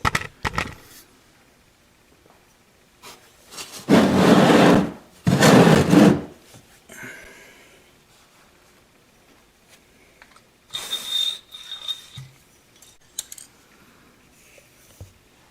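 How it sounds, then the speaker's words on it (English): A hand suction gun, used during maintenance on a CF Moto vehicle, gives two loud pumping strokes in a row, followed by a few fainter squelching draws and clicks, with no talking. "I'm gonna try here my new suction gun that I got."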